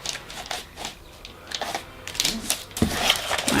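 African print fabric being cut for culottes at a sewing table, heard as soft, irregular crisp snipping and rustling bursts that grow slightly louder toward the end, close by with no talking.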